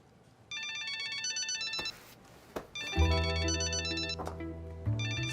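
A phone rings in repeated electronic chirping bursts, joined partway through by a low tonal hum and a few soft knocks, fairly close and clear.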